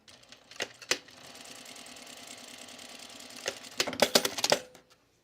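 A sewing machine runs a steady, fairly faint stitching buzz while piecing strips of quilt binding at a shortened stitch length, framed by sharper clicks and knocks of handling at the start and a louder flurry of taps near the end.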